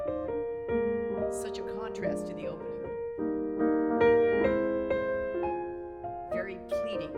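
A piano trio plays the tender second theme from the first movement of Mendelssohn's Piano Trio, sustained gentle chords and melody, while a voice speaks over the music.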